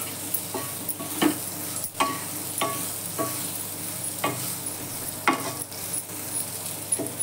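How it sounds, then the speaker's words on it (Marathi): Stuffed okra (bharli bhendi) sizzles in a pan over a low flame with a soft, steady crackle, broken every second or so by the scrape of a spoon stirring, close by and without any voices. "आता ही भेंडी बारीक गॅस करून वाफवू द्यायची मस्त."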